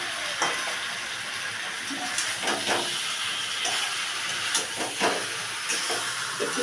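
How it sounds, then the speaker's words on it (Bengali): Spice masala with boiled jackfruit and potato sizzles in a pan, a continuous close hiss broken by occasional scraping stirs and small spits, with no talking. "মশলা কষানো হচ্ছে, কালারটা দেখুন কত সুন্দর এসছে।"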